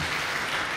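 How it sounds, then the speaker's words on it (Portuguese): Applause in a church, a brief, even wash of many hands clapping together at moderate loudness with no voices over it. "Uma salva de palmas para Jesus"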